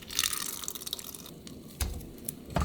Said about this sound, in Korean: 데친 시금치를 찬물에 헹궈 갖고 와서 이렇게 꼭 짜세요.